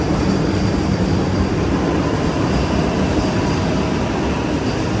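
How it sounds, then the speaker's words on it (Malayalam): A Thiruvananthapuram Vande Bharat train rolls into a railway station, its loud, continuous rumble of wheels and carriages filling the platform without pause. "ഇവിടെ ഇതാ തിരുവനന്തപുരം വന്ദേ ഭാരത് വരുന്നുണ്ട്"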